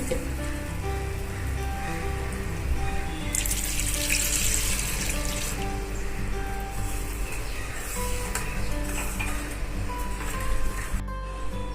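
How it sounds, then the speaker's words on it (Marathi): Water pours into a mixer jar for several seconds, a continuous close splashing and trickling stream with a brief break near the end. "मिक्सरच्या भांड्यातच पाणी टाकलेलं आहे बघा"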